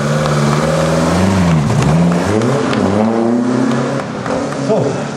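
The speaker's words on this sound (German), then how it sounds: "also Vorkriegsauto und der berühmte 6-Zylinder-Reihenmotor vorne platziert" A pre-war 1937 race car with a front-mounted inline six-cylinder engine drives by loudly at a hillclimb race, its engine note rising and falling through gear changes with a steady roar throughout.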